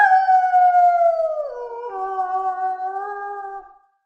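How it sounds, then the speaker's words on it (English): A single wolf howls in a long, clear, mournful tone that slides downward, then holds a lower wavering note before fading out, heard alone and close. "Wolves look like large dogs."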